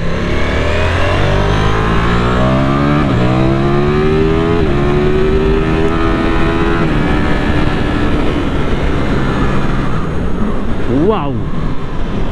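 A 2025 Ducati Streetfighter V4S accelerating on the road, engine rising steadily in pitch through the gears with a shift midway, loud and continuous under heavy wind rush, with a rider speaking over it.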